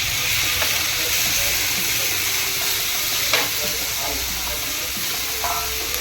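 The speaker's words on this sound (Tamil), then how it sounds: "வெங்காயம் நல்லா இது மாதிரி வதங்கினதுக்கப்புறம் நம்ம தக்காளி போட்டுடலாம்." Onions sautéing in a pan for Tamil Nadu style paneer butter masala, a loud steady close sizzle and hiss with occasional stirring scrapes, continuous without pause.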